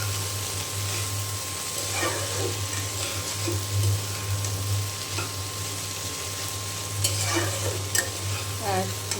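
Eggplant fries in a pan for a shrimp, taro and eggplant curry, with a steady close sizzle and occasional scraping stirs over a constant low background hum.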